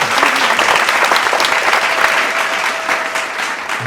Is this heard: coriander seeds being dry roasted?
no